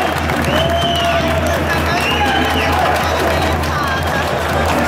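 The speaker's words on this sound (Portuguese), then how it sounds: "uma salva de palmas aí para os compositores da igreja do Matilde" Crowd noise at a samba school rehearsal hall, with clapping and cheering, voices calling out over a dense, loud wash of applause.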